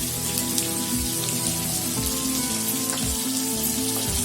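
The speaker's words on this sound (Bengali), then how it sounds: "সবকিছু দিয়ে বেশ ভালোভাবে নেড়ে চেড়ে আরো একটু ভেজে নেব" Chicken pieces fry in hot oil with salt, turmeric and Kashmiri red chili powder, giving a steady, rain-like sizzle and crackle that runs evenly throughout with no talking.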